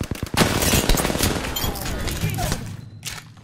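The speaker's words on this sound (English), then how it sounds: "Listen up, I'm getting shot at." Rapid video game shooter gunfire fills the scene, dense overlapping bursts and automatic fire that hold steady and loud throughout, with squad voices talking over the shots.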